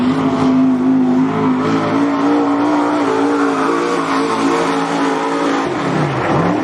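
A race car roars past at Cottage Grove Speedway, its engine loud and close with a steady revving drone that dips near the end of the lap.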